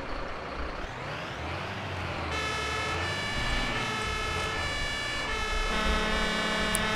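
Emergency vehicle siren in the firefighting game Notruf 112, rising in after a low engine rumble and wailing steadily and loudly with strong harmonic tones through the rest of the clip.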